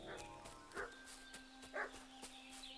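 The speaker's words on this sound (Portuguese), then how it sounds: "What's that dog making such a fuss about?" A dog barks in short bursts at a moderate distance in the medieval open-world game Kingdom Come: Deliverance II, heard over a steady ambient hum and a faint high tone.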